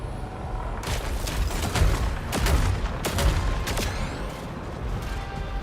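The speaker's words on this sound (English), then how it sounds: "Pellet grenade." A pellet grenade goes off in the game SAROS, a burst of sharp, crackling blasts and booms over rumbling combat noise, with several distinct loud hits spread across the moment.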